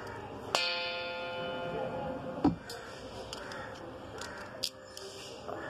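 A crow caws outdoors in a few sharp calls spread across the clip, fairly distant, over a steady background hum near someone testing a Beyblade.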